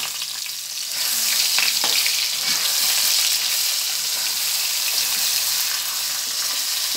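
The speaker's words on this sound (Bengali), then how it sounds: "এবার দেখেন আম দিয়ে দিচ্ছি।" Raw mango pieces dropped into melted sugar syrup for a sweet-sour pickle, a loud continuous sizzle that swells as they go in and then stays steady, close by, with no talking.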